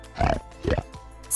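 A voice imitates a pig with two short, throaty oinks, close and fairly loud, separated by a brief pause.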